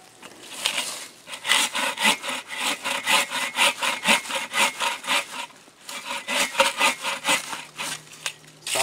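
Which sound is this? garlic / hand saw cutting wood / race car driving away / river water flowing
hand saw cutting wood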